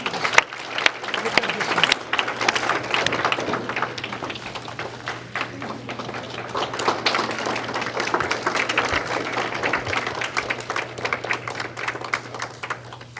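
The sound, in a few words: applause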